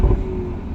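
A Toyota Supra A91 with a newly installed aftermarket exhaust emits a loud, deep, steady engine drone, close and full, with a low rumble that eases slightly after a strong opening burst, with no voices over it.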